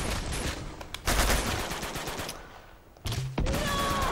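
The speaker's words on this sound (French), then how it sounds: "Il envoie carrément un lance-grenade." Gunfire and explosive bursts from a grenade launcher in the video game Uncharted 2, several loud booming shots separated by brief gaps, with a sharp blast near the end.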